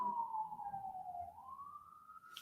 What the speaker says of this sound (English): We're just going to wait for the siren to pass